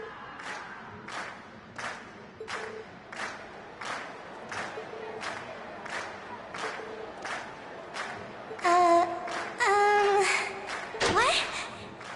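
A crowd cheers in the video game Trails of Cold Steel with steady rhythmic bursts of clapping and shouting at an even beat, ending with a short stretch of voices and sharper tones.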